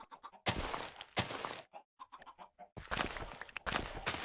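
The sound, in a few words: chickens clucking in the video game Minecraft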